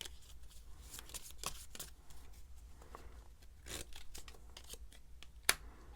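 Tarot cards riffled and shuffled by hand before a weekly draw, a quiet run of soft papery flicks and brief snaps with one sharper crisp click near the end, no voices.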